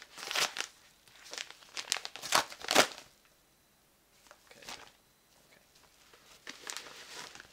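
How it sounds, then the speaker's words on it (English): A big white envelope package is handled and opened up close, giving bursts of paper crinkling, crunching and tearing in uneven clusters with short quiet gaps, and no speech. "Recognize the package, like it's always in this like really big white envelope."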